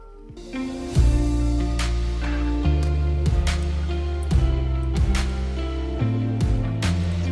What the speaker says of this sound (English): I have used some kicks, some snaps or claps, like they sound something like this, and some impacts as well for the transition